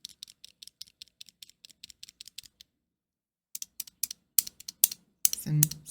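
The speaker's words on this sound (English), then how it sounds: "I enjoy the sound of these buttons clicking." Sanwa arcade controller buttons clicking in a steady run of crisp, close, evenly spaced taps, then a pause and a few louder, more deliberate presses with a short rustle at the end.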